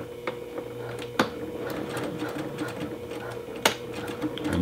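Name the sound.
sewing machine stitching T-shirt fabric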